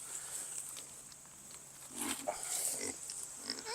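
Pigs kept on a farm behind a new pig net grunt and snuffle faintly at close range, with a brief louder burst of activity midway, over a quiet outdoor background.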